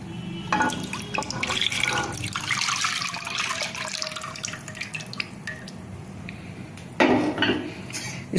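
A tamarind and jaggery mixture is poured into a cooking pan, with a wet splashing pour, drips and metal clinks close by and a sharper clatter near the end.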